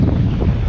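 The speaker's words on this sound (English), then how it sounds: "When the squalls come, the wind picks up big time." Strong wind roars during a squall aboard a sailing boat crossing the Pacific from Galapagos to the Marquesas, a loud, steady low rush buffeting the microphone.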